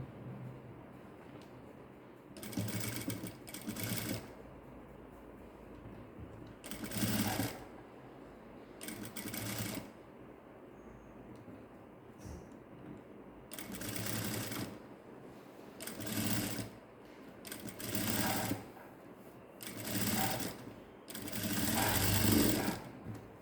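A sewing machine stitches a blouse in repeated bursts of rapid mechanical whirring, each a second or two long, separated by quiet pauses, heard up close and fairly soft.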